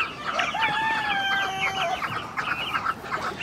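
A mixed flock of chickens with a rooster, including a purebred rooster, heard close by: a rooster crows once, drawn out, amid steady hen clucking and scattered calls.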